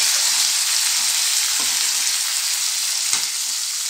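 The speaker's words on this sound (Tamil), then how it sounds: "இப்போ நம்ம கட் பண்ண தக்காளி முருங்கைக்காய் அந்த எண்ணெயில் வதக்கி" Tomato and drumstick pieces sautéing in cold-pressed coconut oil, a steady bright sizzle filling the clip with a couple of faint utensil scrapes, close and fairly loud, no talking.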